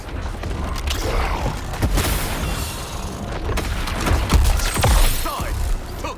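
Explosion in Suicide Squad: Kill the Justice League, a heavy rumbling blast with several booming impacts, creaking metallic debris and mechanical clatter, loud and close, with no clear talk over it.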